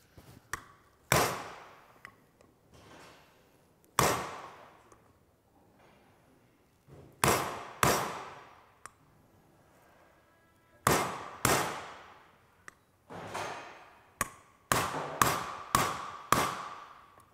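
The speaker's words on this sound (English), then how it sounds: "Just give a little tap on the edge." Sharp metallic taps drive a bearing into place on a Honda Camino PA50 scooter during a rebuild, a dozen or so crisp hammer strikes in uneven bursts, some single and some in quick runs, close and fairly loud.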